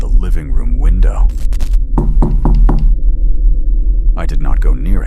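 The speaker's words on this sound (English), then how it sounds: "Then, from the front of the house, came another knock." Knocks on a living room window in a horror story, heard as a short burst of sharp raps around the two-second mark, set against speech-like tones and a steady low drone.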